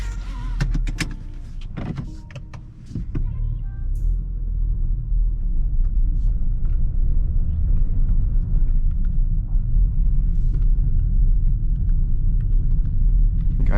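A 2021 VW T-Roc on the Autobahn: a few clicks and thunks inside the cabin, then a steady low road and engine rumble that builds and holds as the car drives on, with no talking.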